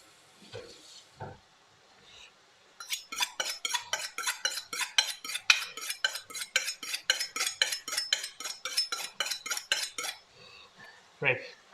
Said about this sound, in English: Need to sharpen my knife, of course, as usual.